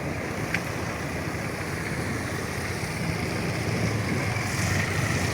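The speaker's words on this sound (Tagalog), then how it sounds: "Ayan, dagat." Steady broadband wash of sea waves along the shore near Mayon Volcano, continuous and moderately loud with wind noise, no talk.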